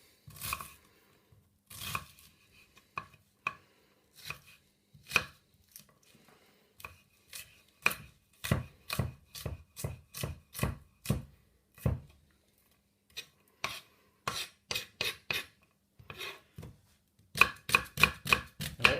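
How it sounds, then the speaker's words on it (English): An onion is finely diced with a knife on a cutting board, with rapid, close, crisp chops in uneven bursts and brief pauses, and a fast flurry of strikes near the end. "So just dice that onion nice and fine."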